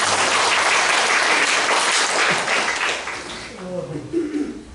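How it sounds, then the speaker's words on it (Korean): A church congregation applauds the choir, with loud dense clapping that fills the room and then thins out, followed by voices and light chuckling. "네, 박수로."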